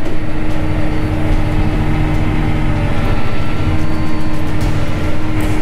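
A Claas Arion 660 Cmatic tractor engine running under load at roughly 80 percent during field work, a loud steady droning hum with a strong low tone, constant throughout with no speech.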